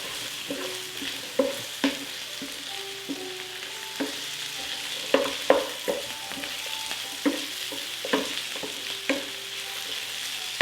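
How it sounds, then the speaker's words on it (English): Chopped potatoes sizzle steadily in a hot pan with a mixture, broken by repeated scraping knocks of a utensil stirring them, close and continuous with no talking. "so I'm going to add my chopped potatoes at this time."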